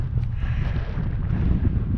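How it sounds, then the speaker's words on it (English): Strong wind gusting across a mountain hiking trail, a continuous low roaring buffet against the microphone with no break, loud and close. "Oh, it's windy."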